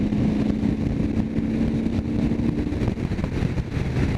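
A 2014 Harley-Davidson CVO Breakout motorcycle cruising on a freeway, its engine a steady, loud, continuous rumble with a low throbbing hum and rushing wind, heard up close without any talking.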